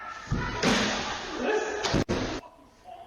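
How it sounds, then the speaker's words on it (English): A sudden loud slam and thud as a security guard's head hits a glass window, with scuffling and a sharp crack soon after, amid a noisy scuffle. "the loud sound you just heard is the head of a security guard hitting a glass window"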